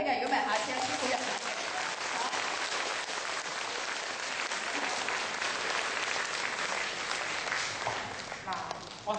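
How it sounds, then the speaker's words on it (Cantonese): An audience at a talk on humour and healing bursts into sustained applause, many hands clapping steadily for several seconds in a room, with some voices mixed in beneath. "要俾多啲掌聲嘅"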